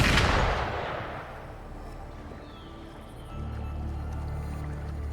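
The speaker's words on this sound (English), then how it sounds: "Gunfire! We've got intruders." A single loud gunshot-like blast rings out in a fantasy video game scene and decays into a long, echoing rumble, followed by a low sustained droning ambience.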